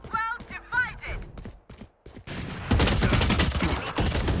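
Gunshots in a video game ring out as a rapid crackling volley in the second half, following a stretch of speech and short sounds; a voice talks over the start.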